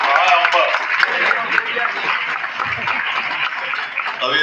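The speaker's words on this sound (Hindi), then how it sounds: "ताली बजाएं" Audience at a community honouring ceremony in an Agrawal Bhavan hall claps steadily throughout, a dense, continuous wash of applause with voices mixed in.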